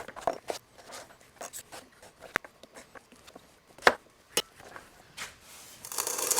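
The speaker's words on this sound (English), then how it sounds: "I'm just going to cut the seeds out" A kitchen knife cutting up squash and other fall vegetables on a board, with irregular crisp chops and scraping strokes, close and fairly quiet, ending in a louder rustle.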